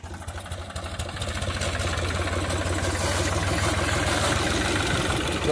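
A tractor engine runs steadily at a farm, a close, loud, continuous low rumble that builds slightly at first and then holds an even idling throb throughout.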